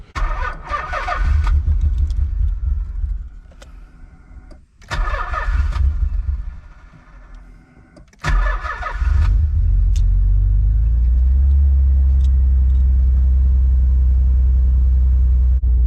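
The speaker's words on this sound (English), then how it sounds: "Going to turn it over and see exactly where our fuel pressure stands." A Nissan 300ZX twin turbo engine is cranked several times, each a loud, close burst of starter whirring, before it catches and settles into a steady, rumbling idle that fills the rest of the clip.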